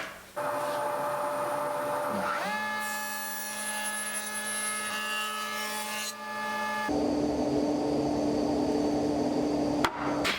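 A spindle moulder machines an oak casement window, a loud continuous whining drone with tonal harmonics that shifts pitch as the cut changes and keeps running for the whole stretch, with no talk.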